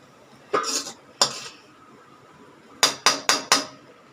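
A metal lid is set onto a pan of bean stir-fry with coconut, giving two scraping clanks followed by four quick sharp metallic taps, close and clear against a quiet kitchen.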